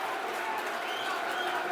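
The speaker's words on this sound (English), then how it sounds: "listen to that applause" Millwall home crowd at a football match against Sheffield Wednesday applauding a hard tackle, a broad wash of clapping and murmuring voices from the stands that stays steady throughout.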